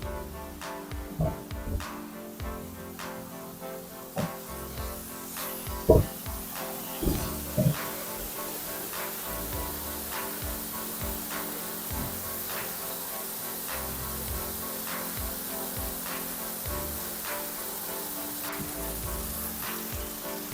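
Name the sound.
waterfall in a cave in Madeira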